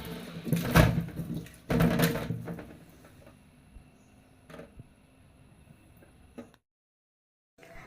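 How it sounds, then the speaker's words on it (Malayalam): Bitter gourd is washed and rubbed under running water, with two loud bursts of splashing in the first couple of seconds, then quieter dripping and small knocks before a moment of silence. "ഇതാ ഇങ്ങനെയിട്ട് കഴുകി നന്നായിട്ടൊന്ന് തിരുമ്പി കഴുകുക കേട്ടോ"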